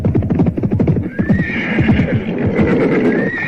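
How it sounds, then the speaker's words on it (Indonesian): A group of horsemen arriving on horseback in an audio drama, loud close rhythmic clip-clop of hooves with a horse neighing and whinnying over the galloping. "Mendadak, kesunyian terpecah oleh hadirnya serombongan orang-orang berkuda."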